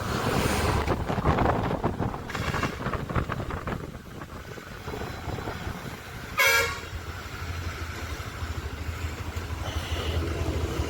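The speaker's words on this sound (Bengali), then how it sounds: "এই যে হর্ন মারলে আমি দাঁড়িয়ে পড়লাম" A single loud horn blast from a large vehicle rings out on a windy mountain road in North Sikkim near Yumthang Valley, standing out over steady wind rumble and engine noise.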